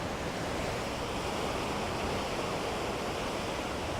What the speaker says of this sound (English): just chill out and watch a few waves roll in, crash into the side of the rocks